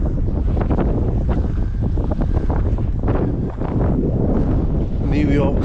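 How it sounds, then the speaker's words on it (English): Heavy wind buffets a microphone on an exposed stretch of Scotland's east coast along the NC500, a loud continuous low rumble with gusts that swallows everything else. "Sorry about the wind, it's very, very noisy."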